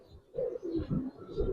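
Giribaz pigeons give a short run of low, throaty coos, three or four pulsing calls in quick succession, close and fairly clear against a quiet background.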